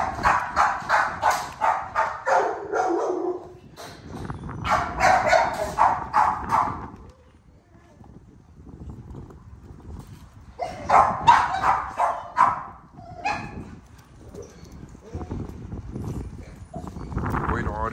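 Hunting dogs bark and yip in rapid bursts, several voices overlapping nearby, with a pause partway through before the chorus resumes.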